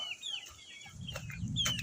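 Several chickens cluck softly nearby, with short chirpy calls and a brief higher squawk near the end, over faint background noise.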